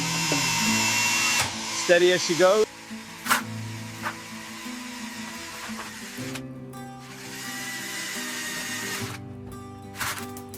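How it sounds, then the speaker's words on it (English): A power drill whirs in short bursts while fitting a shelf in a train car, its pitch rising and falling, with a steady motor hum in between and someone talking briefly. "All right, drilling in, hold it there"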